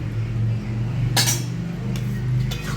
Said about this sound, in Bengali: ভালো করে এইভাবে মিক্স করে নেব, মিশিয়ে।